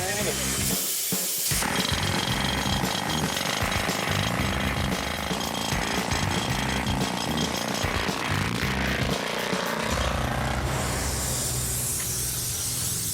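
A jackhammer pounds loudly and continuously in a rapid rattling rhythm, close by, with harsh hissing noise.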